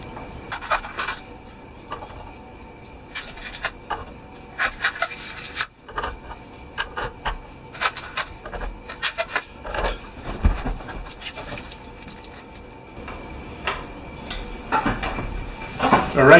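Small metal hardware rattles and scrapes against a guitar headstock while tuning machines are replaced and washers and nuts are fitted, with irregular close clicks, rubs and taps throughout and no talking.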